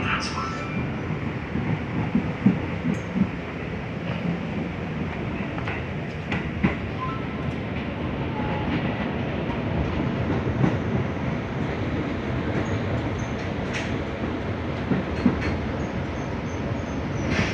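A KRL Commuter Line train rumbles steadily along the rails near Manggarai station in Jakarta, with a constant roar and occasional clicks, and faint voices come through the noise.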